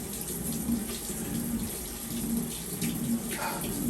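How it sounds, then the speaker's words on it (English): Water gushing steadily into a washing machine through a newly replaced inlet valve, a continuous hissing flow for the whole stretch. "Alright, I hear water."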